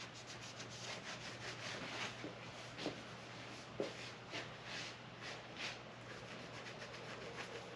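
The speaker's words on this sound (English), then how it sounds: "I'm going to wipe down the mating surfaces with some acetone" A rag soaked in acetone wipes the mating surfaces of an E10 engine for a '57 Bel Air restomod, making soft, faint, repeated rubbing strokes with occasional light knocks, in a quiet room.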